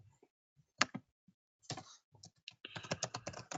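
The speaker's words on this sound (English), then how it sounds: "I should be typing this in here too." Fingers type on a computer keyboard in a quiet room, scattered soft key clicks at first, then a faster, denser run of keystrokes toward the end, close and alone.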